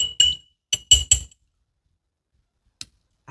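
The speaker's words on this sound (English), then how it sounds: "stir that honey till it's dissolved" A spoon stirs honey until it dissolves, giving a few sharp, close clinks against a glass container in quick clusters, then a pause and one more tap, with no voices.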